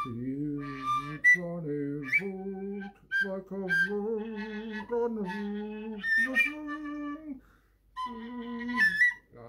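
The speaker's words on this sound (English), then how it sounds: "I'm just going to have to carry on with the whistling." A melodic whistled tune plays steadily over several seconds, with a harmonica-like tone and short pauses between phrases.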